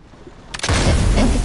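A sudden loud cannon blast from a video game, a heavy booming burst that hits and then sustains as a dense rumble.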